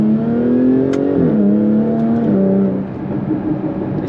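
Jaguar F-Type S engine with its open-valve sport exhaust, loud and close, holding a strong steady rev that drops sharply twice at gear shifts before settling into a lower, rumbling pull.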